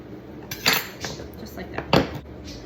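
A knife cuts through a one-pound block of unmarked butter, dividing it into sections, producing a few distinct knocks and clinks of metal against a board or dish at close range, with short quiet gaps between them.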